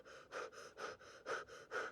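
Breathing inside a fabric-topped face mask: seven slow, even breaths, each a soft airy rush, close and muffled, repeating in a steady rhythm with no talking.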